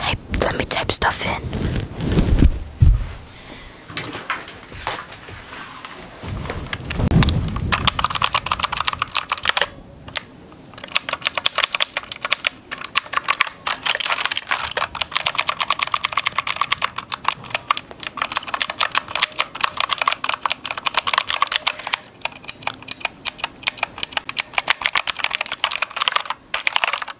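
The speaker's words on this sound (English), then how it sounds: "Let me type stuff in." Fast, close clicking of typing on a computer keyboard, continuous and dense for most of the stretch, with soft whispered speech near the start.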